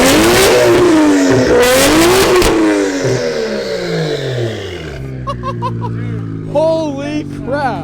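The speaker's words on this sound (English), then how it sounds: "I want to hear what this thing is at a couple red line revs." Straight-piped 1JZ Toyota Soarer revving hard toward redline, loud sharp blips that rise and fall repeatedly, then fading to a rough idle as people start talking.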